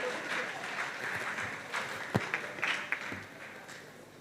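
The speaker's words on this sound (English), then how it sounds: "A round of applause for him, ladies and gentlemen," Audience applause at a university career expo ceremony as the dean comes forward, a steady wash of clapping with a few sharper claps standing out near the end.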